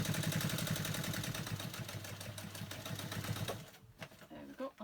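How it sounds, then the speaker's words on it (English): Sewing machine stitching through the thick layers of a catnip cat toy, a rapid regular clatter of needle strokes for about three and a half seconds, then stopping, followed by a few soft handling knocks. "Now I'm going to stitch through the whole lot."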